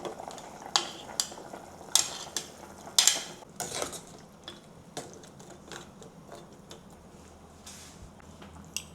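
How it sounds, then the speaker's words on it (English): Vegetables tumble into a pot of Malaysian oxtail soup with a few sharp clatters and knocks against metal, followed by softer stirring scrapes and light clinks, close and moderately loud with no talking. "It's time for me to add the vegetables."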